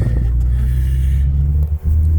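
A 2005 Mitsubishi Outlander 2.4 running on LPG drives along, a loud close low engine rumble with steady road noise and a brief dip near the end, no voices.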